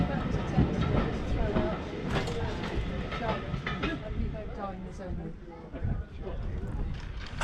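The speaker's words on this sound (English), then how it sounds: "This little loco doesn't have much size, but more than enough energy to cater for the dining train." A small heritage steam locomotive hauls a dining train of vintage carriages along a preserved line, with steady rail rumble and rhythmic wheel clatter over the track, moderately distant throughout.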